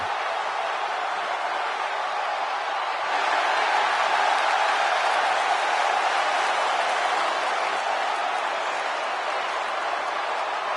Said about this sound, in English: boy, is this crowd fired up